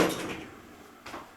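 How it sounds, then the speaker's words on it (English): Lexan-style doors on an Otis high-speed elevator at the Westin Market Street in San Francisco slide with a brief clatter, then fade and sound again in a second short burst near the end. "you could hear the Lexan style doors"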